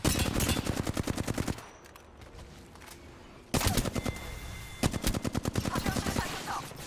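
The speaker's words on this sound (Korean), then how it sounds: "사격 중이다." Rapid automatic gunfire from an Apex Legends-style battle royale match on the Storm Point map, two long loud bursts of rattling shots broken by a quieter gap, then a further burst of fire.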